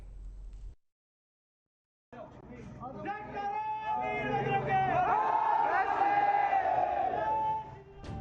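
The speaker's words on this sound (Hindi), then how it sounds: "स्कूल में बाहरी लोगों की भीड़ लगी है, जय श्री राम के नारे लग रहे हैं" A large crowd gathered at a school chants Jai Shree Ram slogans, a loud, continuous mass of voices rising after a brief silence and holding steady before tapering off.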